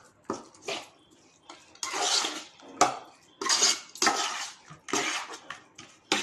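Gongura chana dal curry is served into bowls, with a run of separate clinks, scrapes and clatters of a spoon against bowls and pot in short bursts, close and fairly loud.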